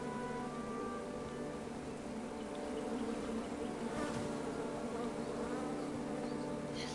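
Bees buzz in the King's Quest video game, a steady, close insect drone that fills the whole stretch without pause and with no talking over it.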